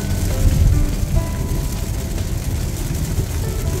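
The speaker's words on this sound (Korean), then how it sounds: "그래도 비 많이 오죠." Heavy rain drums on a car during a night drive on the highway, a dense steady hiss over a low engine and road rumble, close and continuous with no talk.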